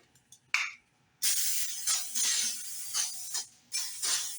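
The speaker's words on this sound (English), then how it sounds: "Just give it a nice spray everywhere." Several hissing bursts of avocado oil aerosol spray onto a griddle, short puffs then longer sprays, with a small click between them.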